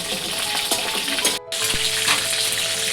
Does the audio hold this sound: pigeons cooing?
no